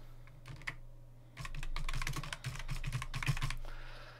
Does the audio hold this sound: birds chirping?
no